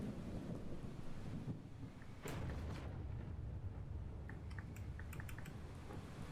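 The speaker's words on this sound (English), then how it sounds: "The thunder is loud. Like, really loud." Thunder in the video game Rain World: The Watcher, deep rumbling that swells and then breaks into a sharp crack partway through, followed by scattered crackles over a windy, rain-like background.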